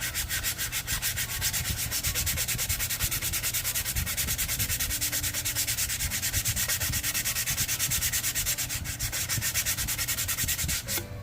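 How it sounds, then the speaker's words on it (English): Continuous rhythmic sanding of balsa-style model rocket fins, rounding over the leading edges with quick back-and-forth strokes, close and steady with no voices. "Everybody's favorite videos are sanding videos"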